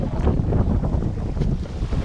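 A fair north-northwesterly wind blows on a sailboat just out of Newfound Harbor, bound for Marathon near Bahia Onda, as a constant loud roar buffeting the microphone with a low rumble of water beneath.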